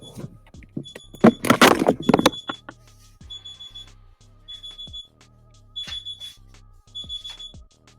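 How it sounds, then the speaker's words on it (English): An alarm going off indoors somewhere nearby, repeated high electronic beeps in short bursts, with clattering and handling noises mixed in early on. "I have an alarm going off somewhere."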